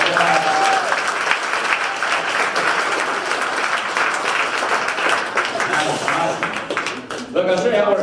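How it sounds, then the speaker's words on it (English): Keynote lunch audience gives a full round of applause, steady crowd clapping throughout, with a voice and a brief tonal sound rising near the end as it fades. "Give her one more round of applause"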